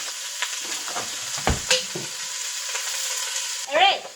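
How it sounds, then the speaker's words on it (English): Food being stirred in a pan of hot oil while cooking chicken tikka masala, with scraping stir strokes over a steady close sizzle and a brief louder clatter near the end. "All right, so we're stirring."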